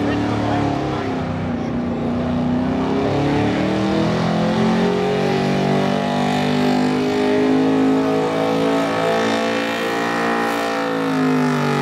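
A 1977 Ford 4x4 truck with a small-block engine, nicknamed Blue Thunder, revs steadily at an outdoor event in Millers Tavern, Virginia, its loud, sustained engine drone rising and holding across the whole stretch, with a crowd murmuring underneath.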